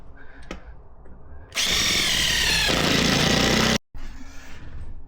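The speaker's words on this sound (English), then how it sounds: "Let's carry on drilling." A power drill bores into log burner parts for a tunnel entrance, a loud continuous whine running about two seconds, cutting out abruptly, then resuming after a brief gap.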